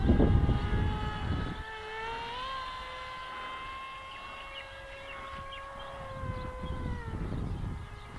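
Steady whining hum of an S800 'Sky Shadow' multirotor drone on its maiden flight, tonal pitches rising and dipping slightly with throttle changes, heard outdoors at moderate distance with gusty wind noise at the start and end.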